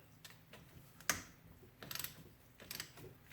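A hand ratchet clicks in short bursts while loosening 10 millimeter bolts on a Ski-Doo snowmobile cylinder head; close, quiet repeated pawl clicks separated by pauses, with a sharp knock early on.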